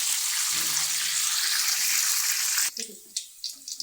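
Steady, loud hiss of raw banana wafers deep-frying in oil fills the first part, then cuts off, leaving a few faint clinks and scrapes.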